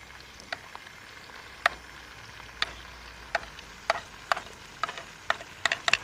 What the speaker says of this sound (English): Now into the oil go the broad beans.